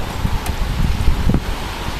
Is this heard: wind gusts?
yes